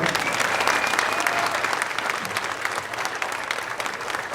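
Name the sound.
audience applause at a spring concert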